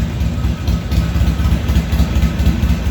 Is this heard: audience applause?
no